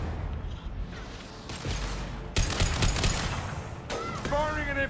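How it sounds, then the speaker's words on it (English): Rapid gunfire and explosive shots from the video game Mass Effect 2, with bursts of loud firing across the clip and a whooshing weapon effect near the end, under faint background combat noise. "Firing an impact shot."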